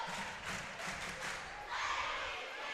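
A basketball crowd at a girls' high school game, North Laurel against Jackson County, roars and cheers steadily as a costumed mascot fires them up, a broad continuous wash of noise with a swell near the end.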